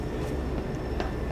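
A train rumbles past in the video game Half-Life 2, a steady, dense low roar filling the whole moment with faint metallic clanks and hiss on top, loud and continuous with no talking.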